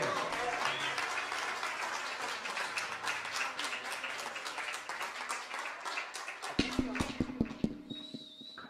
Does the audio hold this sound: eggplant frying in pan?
no